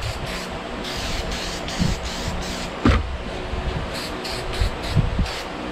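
Short hissing bursts of an aerosol can spray SEM plastic adhesion promoter onto an amber light lens in a garage, several puffs and dust coats with faint handling knocks between them, no talking.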